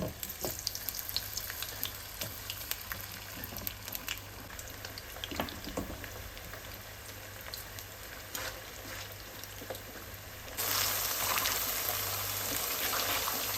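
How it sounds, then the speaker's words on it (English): Steady crackling sizzle of potatoes frying in hot oil, with scattered pops and spits throughout, growing a bit brighter and louder near the end. "frying the potatoes."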